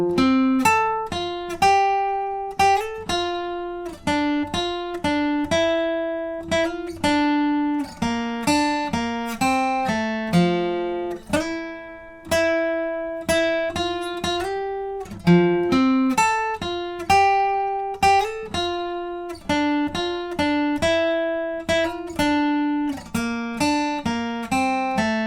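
Solo from a song played on guitar, a sequence of clearly plucked single notes and short bends with sliding phrases, each note ringing and decaying, close and alone without any talking.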